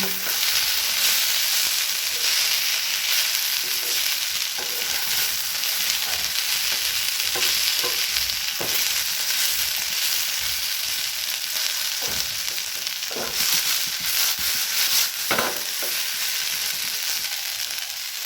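Potatoes fry with poppy seeds in a pan, a steady loud sizzle throughout with occasional scraping stirs breaking through, no voices.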